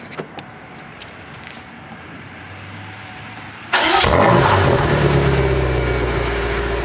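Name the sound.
sports car engine cold start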